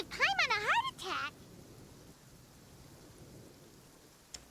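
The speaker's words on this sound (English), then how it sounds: "Also, what was with that thunder" Thunder in Genshin Impact rolls in as a low, distant rumble under steady rain-like noise, following a brief high-pitched voice at the start.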